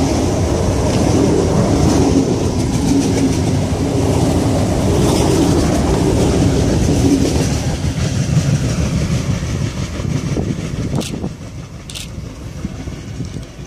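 A Sydney Tangara train runs through Penshurst station with a loud, close rumble and rattling wheels, then fades as it moves away, with a couple of sharp clanks near the end.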